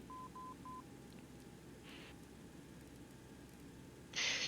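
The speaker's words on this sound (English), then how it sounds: "So, what you hear was the code of the VOR." Three short, even beeps of a steady tone in quick succession, a VOR beacon's Morse ident in a Boeing 727 flight simulator, faint against a hiss, followed later by a louder burst of noise.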